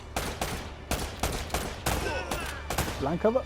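Blind cover fire in the video game Uncharted: Drake's Fortune: rapid bursts of gunshots crack out in quick, uneven clusters, and a voice is heard briefly near the end.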